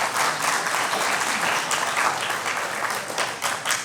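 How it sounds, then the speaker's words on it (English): An audience applauds at a book event for a biography of Dr. Karan Singh, a steady, dense wash of clapping that holds at an even level throughout with no talk over it. "so a big round of applause for him"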